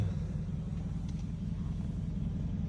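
A Mercedes-Benz G-Class idles with a steady, deep low rumble that stays even and close throughout, with no talking over it.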